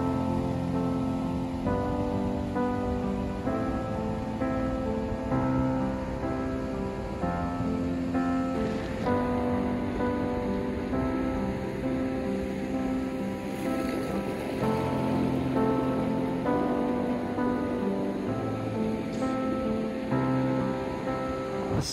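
Ocean surf rolls in at Playa de Famara, a volcanic surfing beach on Lanzarote, as a continuous wash of breaking waves under steady sustained tones, with no voices.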